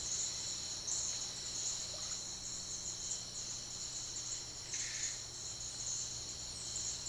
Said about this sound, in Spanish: en las riberas de los canales coexisten una buena cantidad de insectos